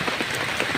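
Morning rain keeps falling on Mount Sagara, Garut, heard as an even, close wash of patter and scattered droplet taps throughout the short moment.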